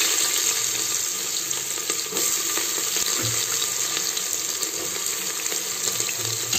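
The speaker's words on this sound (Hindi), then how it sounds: "यहाँ मैं डाल दूँगी प्याज" Chopped onions dropped into hot ghee that already holds garlic in a home kitchen, giving a loud, continuous hissing sizzle that holds steady throughout, heard close with no voices.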